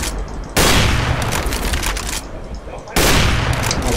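Loud, close gunfire from Counter-Strike: Global Offensive on a weapons training course, with two sharp bursts opening dense, sustained volleys of shots that fill the whole stretch.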